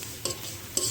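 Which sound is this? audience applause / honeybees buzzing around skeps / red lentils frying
red lentils frying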